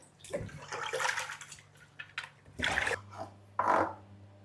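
Vegetables being washed under running water, with several short bursts of splashing and rinsing set against a quiet background hum.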